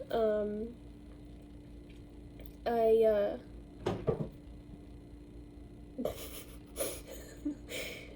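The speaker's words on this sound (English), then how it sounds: "He's pawing at the door, but I'm trying to ignore that." A pet pawing at a door indoors, making scattered soft knocks and scratchy taps in short bursts, with a person talking quietly in between.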